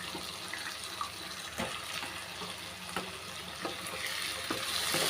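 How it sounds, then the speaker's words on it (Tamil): Brinjal and potato pieces sautéing in oil with tomato, making a soft continuous sizzle with a few stirring clicks. It is close but fairly quiet, and no one speaks. "கத்திரிக்காய் உருளைக்கிழங்கு நம்ம எண்ணெயிலே நல்லா வதக்கிக்கலாம்"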